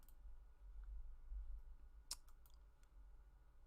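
A single sharp mouse click on a trading chart, with a couple of fainter ticks after it, heard over a steady low hum.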